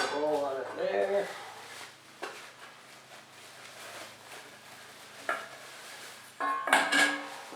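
A dog bowl is set into a stand whose tabs lock in place: a few short hard knocks and clatters at intervals, the loudest near the end, with a voice talking at the start.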